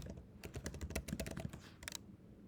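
Quiet, quick keystrokes on a computer keyboard come in a short burst of irregular clicks as a username and password are entered, then stop.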